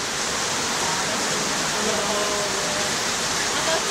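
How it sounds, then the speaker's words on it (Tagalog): Heavy rain pours in a steady, dense roar that fills the whole stretch without letting up. "Lakas ng ulan, Marie."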